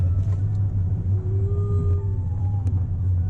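A Tesla Model 3 electric car accelerating with the pedal pressed hard: a steady low road rumble under a faint motor whine that glides upward, heard from inside the cabin.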